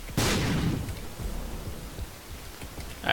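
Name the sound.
bomb explosions in The Binding of Isaac: Afterbirth video game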